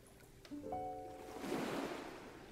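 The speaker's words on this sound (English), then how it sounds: "Ocean." Ocean waves swelling into a soft broad surf wash that builds and lingers, faint and distant, with a few brief tonal hums near the start and no voices.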